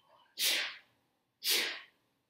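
Two sharp, breathy sneezes burst out about a second apart, close and fairly loud, each fading quickly into quiet.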